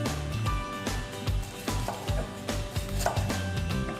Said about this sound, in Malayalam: ചെറുതായിട്ട് അരിഞ്ഞെടുക്കണം